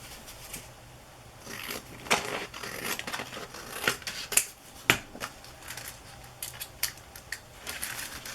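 Paper being trimmed with scissors for a collage book, irregular crisp snips and rustles, quiet and close, with no talking.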